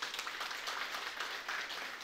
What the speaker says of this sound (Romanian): Haideți să-i aplaudăm!